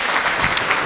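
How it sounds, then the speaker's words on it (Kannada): An audience claps at a farewell ceremony for an education officer, a brief dense burst of applause filling the room, loud and close. "ನಾವೆಲ್ಲ ಯಾಕೆ ಚಪ್ಪಾಳೆ ಕೊಡಬಾರ್ದು?"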